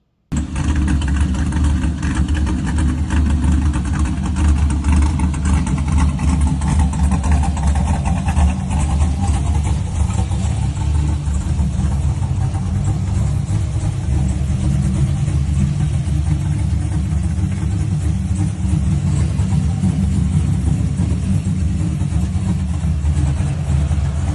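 A Chevy Nova engine fires up, then idles with a loud, lumpy rumble close by, with swells of revving as the throttle is blipped throughout.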